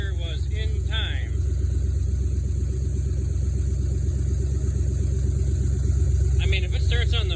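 A freshly started Jeep CJ5 hot rod engine idles in a steady, close rumbling chug, with people talking briefly near the start and again near the end.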